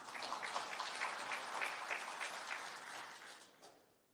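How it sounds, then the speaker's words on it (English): Applause from an audience at a long service award ceremony, a dense patter of clapping hands that holds steady and then thins and fades out over about four seconds. "Yes, you can clap yourselves."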